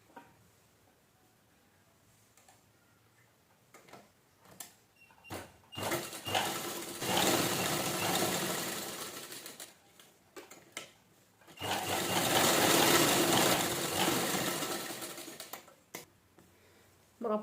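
Sewing machine stitching fabric all the way around the edge, with two long steady whirring runs close by, broken up by handling clicks and quiet gaps.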